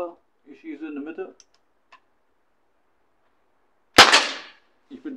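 A single sharp shot from a Crosman 1077 air rifle cracks close by and decays quickly, after a short stretch of speech and a silent pause.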